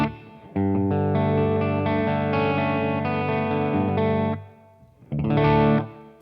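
Baritone guitar played through an MXR Carbon Copy Deluxe analog delay into a dirty Boss Katana Artist Mark II amp with a touch of reverb: a sustained, distorted, chorused chord passage with delay trails, a brief pause, then a short second strum.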